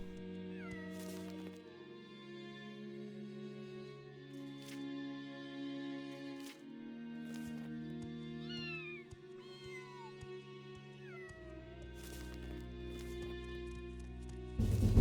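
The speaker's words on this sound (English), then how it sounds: "These are cats, it seems." Cats meowing in the Morrowind video game, several rising and falling mews scattered over a steady bed of layered game music, fairly faint.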